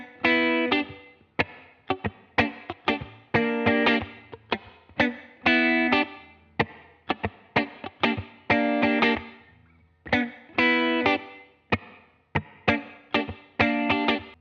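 A guitar plays a melody slowly, with distinct plucked notes that ring and decay in short phrases, close and clear, through an effects unit that gives a chorus-like shimmer.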